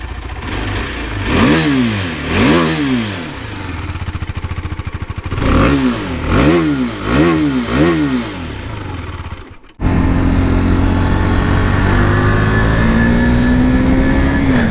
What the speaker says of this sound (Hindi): मैं आपको इसका एग्जॉस्ट नोट सुनाता हूँ